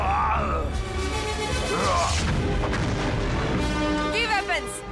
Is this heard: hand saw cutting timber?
no